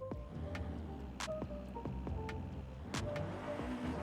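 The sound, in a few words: Mitsubishi Galant VR-4 interior engine sound in video game Forza Horizon 5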